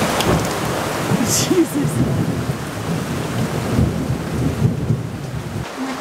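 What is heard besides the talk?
thunderstorm with rain and lightning strike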